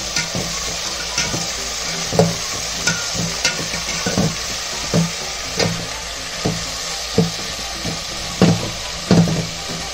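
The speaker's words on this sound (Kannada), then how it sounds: "ಇವಾಗ ಇದನ್ನು ಚೆನ್ನಾಗಿ ಫ್ರೈ ಮಾಡಬೇಕು." Chitranna masala with coriander frying in a pan, a steady sizzle under repeated sharp scrapes of a spoon stirring at a loose rhythm, close and fairly loud with no talk.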